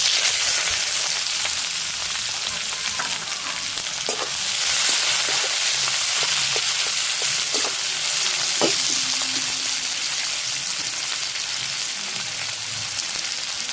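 Chopped onions fry with salt in a pan of hot oil with whole garam masala, chilli and a little sugar, giving a loud, steady sizzle throughout with occasional stirring scrapes and no talk.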